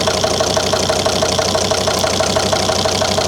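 A 2003 Volvo XC90 D5 diesel idles with injector 4 disconnected, a steady close rumble with a regular rhythmic knock running throughout, no voices.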